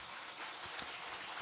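A church congregation applauding together, a dense steady wash of many hands clapping at moderate distance, continuous and even with no voices over it.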